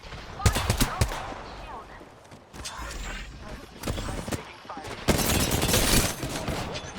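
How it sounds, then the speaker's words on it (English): Bursts of rapid automatic gunfire from an R-99 submachine gun in the video game Apex Legends, loud and close, in several volleys amid game sound effects and occasional voice lines. "Getting shot at."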